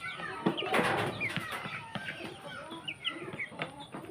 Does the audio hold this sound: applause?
no